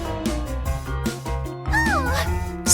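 A cartoon cat meows in an animated scene, a short rising-and-falling mew heard over steady background music with no talking.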